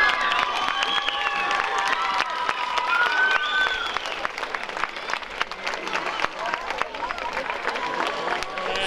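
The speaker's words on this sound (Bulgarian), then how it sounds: "Аплодисменти за кандидата за кмет Николай Ангелов." Crowd applause and cheering at an outdoor evening concert for a mayoral candidate, a steady dense roar of clapping with shouts and whistles on top, holding for nearly nine seconds before thinning slightly.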